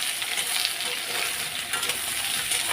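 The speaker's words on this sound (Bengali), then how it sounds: "এবার এটা একসাথেই ভেজে নেব।" Potatoes and onions fry together in a pan, a steady close sizzle with scraping stir strokes running through it and no talking.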